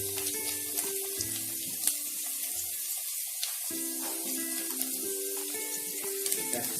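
Garlic frying in oil gives a quiet, steady sizzle, faint and close, with clinks and a water-like hiss mixed in and no talking.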